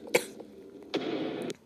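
A person coughs while playing the horror game Evil Officer, one sharp close cough, then a longer rough throaty burst after a short pause, with quiet background between.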